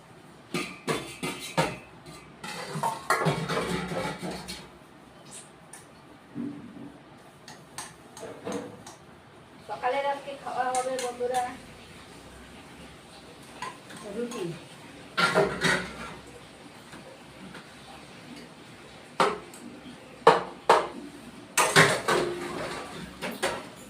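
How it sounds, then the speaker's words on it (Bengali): Last night's dishes being scrubbed by hand: close, irregular clinks and clatters of crockery and utensils come in scattered bursts, with quieter scraping between them. "রাতের বাসন ছিল মেজে নিচ্ছি"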